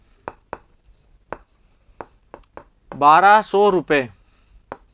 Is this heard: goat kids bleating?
no